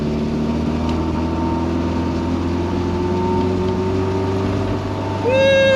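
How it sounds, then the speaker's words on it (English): An abandoned Triumph Dolomite drives along with a worn, noisy gearbox, producing a steady droning engine and transmission whine inside the car, with a rising tonal whine near the end as it speeds up. "Gearbox feels absolutely horrendous. I don't know if you can hear that, but it's got louder as well."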